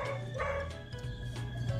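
A little puppy yips and barks in quick, high bursts, close and fairly loud over a busy background, with several sharp barks packed into under two seconds.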